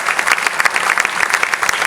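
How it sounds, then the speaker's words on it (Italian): Audience applause at the opening of the "Donna in Scena" exhibition, a dense, steady wash of many hands clapping close by for the whole moment, with no voices over it. "mi sembra che sia un applauso assolutamente meritato"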